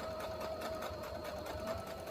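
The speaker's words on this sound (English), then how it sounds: "a straight stitch approximately 1/4 of an inch away from the edge" A sewing machine runs steadily, straight stitching ribbon about a quarter inch from the edge, its motor whirring in an even, continuous buzz, close and fairly quiet, with no talk over it.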